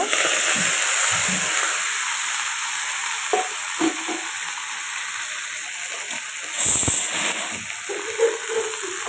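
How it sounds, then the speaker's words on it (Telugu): Spice tempering of dried red chillies and seasoning with asafoetida frying in hot oil in a pan, a steady close sizzle and crackle throughout with a few scraping stirs and a brief louder burst. "వేగుతున్న పోపులో కొంచెం ఇంగువ"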